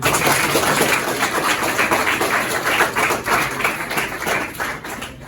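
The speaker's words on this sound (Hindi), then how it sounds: "इन सभी के लिए जोरदार तालियां" Loud, sustained applause from a crowd at a New Year party, honouring the children who prepared it, steady clapping with no talk over it.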